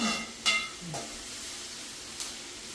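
Onions sauté in a pan with a soft, steady sizzle, punctuated by a few brief stirring scrapes and clinks, fairly quiet with no talk.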